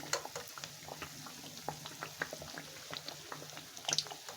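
Afghan khajoor, fried dough sweets, bubble and crackle in hot oil with a soft continuous sizzle and scattered pops, fairly faint and close, with no talking.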